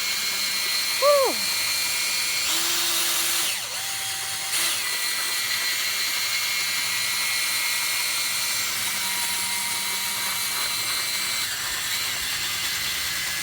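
An electric drill with a paddle churns tile grout in a bucket, a steady high mechanical whine running throughout, close and fairly loud, with the pitch dropping briefly as the load shifts and a short voiced sound near the start.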